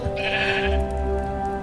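Sheep bleating in a Hindi Christmas cantata, a wavering cry over a steady sustained musical background, heard briefly without voices.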